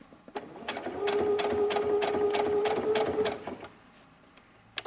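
A sewing machine stitches elastic into a fabric scrunchie in a steady, fast mechanical hum with a rhythmic clicking pulse, running for about two and a half seconds before stopping, close and clear with no talk.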